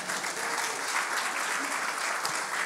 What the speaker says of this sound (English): that is good time for applause